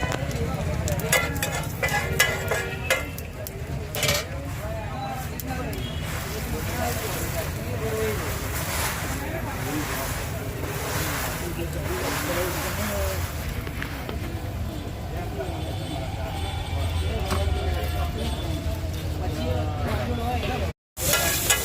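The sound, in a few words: pav bread roasting in oil with bhaji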